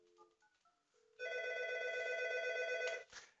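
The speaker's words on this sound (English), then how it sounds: "now I'm going to call 792 to hear the ringing." A few short dial tones give way to a steady electronic ring from a SIP audio alerter on a ShoreTel phone system, one long continuous tone that cuts off abruptly.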